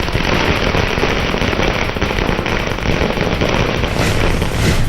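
Dense, continuous crackling of firecrackers bursting in rapid succession, loud and close, with no pauses across the whole stretch, set off by party workers celebrating at a political party office in India.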